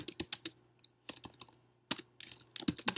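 Someone types an email on a computer keyboard, producing crisp, close key clicks in irregular bursts with short pauses between them.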